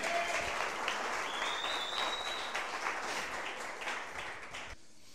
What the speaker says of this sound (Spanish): Dale un aplauso a papito, amén.